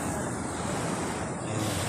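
Surf rolling in at high tide on a beach at Laiya, San Juan, Batangas, a steady loud wash of waves with wind noise on the microphone and no voices.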